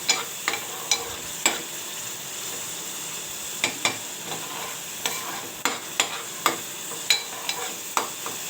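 Wild monsoon greens (kantoli) stirred in an oiled pan, a utensil scraping and clacking at irregular intervals over a steady soft frying sizzle; no voices.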